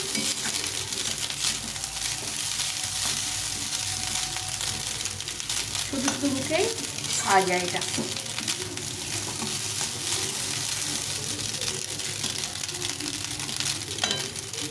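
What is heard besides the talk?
rice being fried and stirred in a pan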